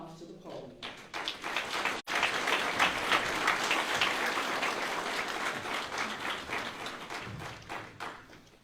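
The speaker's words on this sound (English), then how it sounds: "Let's give Mr. Joshua Pugh an applause as he comes to the podium." Audience at an Urban League scholastic achievement awards luncheon applauds as a master of ceremonies comes to the podium, steady dense clapping sustained throughout with a brief dip partway.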